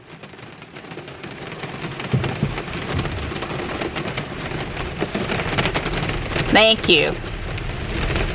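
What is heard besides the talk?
heavy rain falling outside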